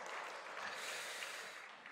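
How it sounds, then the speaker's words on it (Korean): A church congregation applauds after a hymn during a Korean Methodist service, a quiet, steady patter of many hands heard from a distance, even in level and without speech over it. "우리 한번 박수로 다시 한번 격려해 주시기 바랍니다."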